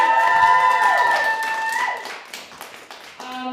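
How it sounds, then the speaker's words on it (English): Audience at a SisterSpit 2022 spoken-word performance event applauds, with scattered claps emerging as sustained tones fade, at moderate loudness. "Give another round of applause for Ari and all the other people who performed"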